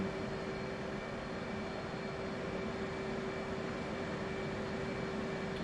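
Aircraft engine running steadily in the DCS flight simulator during a Red Flag mission, a continuous broadband roar with a sustained tonal whine, constant and fairly loud throughout with no talk.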